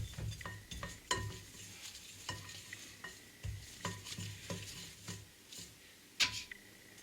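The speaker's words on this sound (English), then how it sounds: "you take a little bit of vegetable oil and just paint it on the side of your bowl" A brush paints vegetable oil onto the side of a bowl, giving quiet, close scraping strokes and soft taps in an irregular rhythm.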